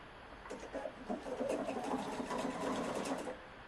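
A Pfaff 710/720 sewing machine runs a triple-stitched reinforcement stitch to form a leaf, its motor whirring steadily with a fast rhythmic needle patter for a few seconds, fairly quiet and close, with no talk.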